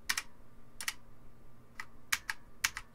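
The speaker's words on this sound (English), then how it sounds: "But it's a gaming keyboard. You've heard it." Keys clack on a MiiU 87-key backlit mechanical gaming keyboard, close and crisp, in short irregular bursts of sharp clicks with quiet gaps between them.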